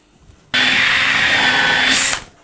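A power drill bores a pilot hole for a screw into a wooden shelf beam, one loud steady whine lasting about one and a half seconds that starts abruptly and winds down at the end.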